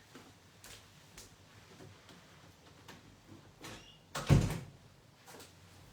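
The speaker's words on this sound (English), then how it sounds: "I just have to close the door here." An indoor door being pushed shut, a single solid thud near the end after a few faint creaks and shuffles, close and fairly loud against a quiet room.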